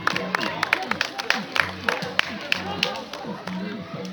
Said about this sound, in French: On applaudit bien fort Mademoiselle Bossy Natacha.